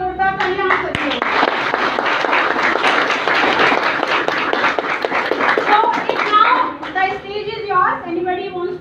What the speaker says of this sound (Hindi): एक बार जोरदार तालियां आप सभी को